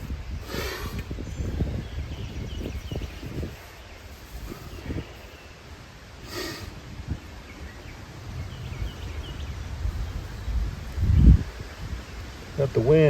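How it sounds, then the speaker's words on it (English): Wind blowing through tree leaves outdoors, a steady soft rustle with gusts rising and falling, with a few knocks and handling noises close by. "Got the wind getting up on us"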